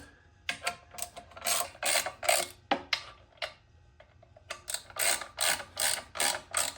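Skid plate bolts being tightened in a crisscross pattern on a 2024 Kawasaki KLX 300, a quick series of close, rhythmic ratcheting clicks in bursts with short pauses between them.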